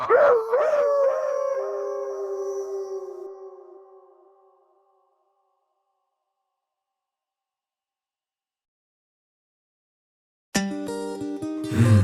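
A long, wavering wolf howl from a children's Halloween song rises and slowly fades to silence, and after a long pause music comes in at the end.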